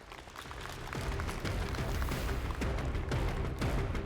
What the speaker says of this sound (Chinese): 那接下来让我们用掌声有请3位魔豆们上台